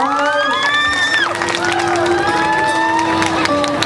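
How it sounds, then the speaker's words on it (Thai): Audience at the final of a 2009 talent competition, a dense wash of cheering and shouting with whoops rising over it, sustained and fairly close throughout, with a voice cutting in. "เสียงปรบมือให้พี่นุ๊กครับ"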